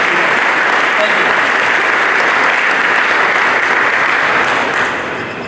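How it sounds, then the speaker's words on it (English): Sustained audience applause for firefighters at a fire station open house, steady dense clapping from a crowd that holds for several seconds and then starts to fade. "give them a round of applause,"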